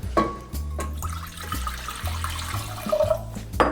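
Water splashes and pours into a vessel with uneven gurgling bursts, close by and fairly loud.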